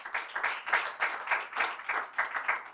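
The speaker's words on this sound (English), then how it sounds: "Can you all give yourselves a round of applause for being here?" Attendees at a community grand opening give themselves a round of applause, a fairly faint, steady patter of clapping with a pulsing rhythm and no voices over it.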